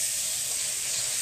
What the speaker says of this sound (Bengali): এবার আমটাকে আমি খুব একটু ভালো করে ভেজে নেব